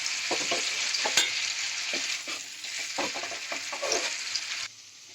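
Potato and cauliflower pieces sizzle steadily in hot oil in a pan while a spatula scrapes and stirs them in repeated strokes, the frying hiss loud and close until it drops away near the end.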